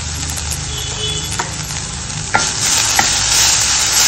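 Finely chopped onion sautéing in a pan, a steady close sizzle of frying with occasional clicks of a spoon stirring, no talk.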